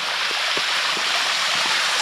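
Water at Vempalli waterfall in the Rayalaseema forests, a steady broadband rush of falling water with a few faint low thumps underneath, close and continuous for the whole stretch.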